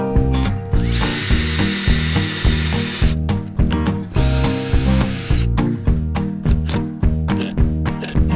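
A power drill whirs in repeated short bursts, driving screws into pre-drilled wood with brief pauses between each run, loud and close with a ratcheting edge.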